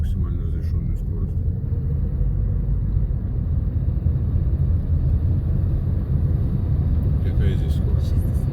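A car accelerating through city streets during a driving lesson, giving a steady, loud low engine and road rumble that holds constant throughout, with no talking.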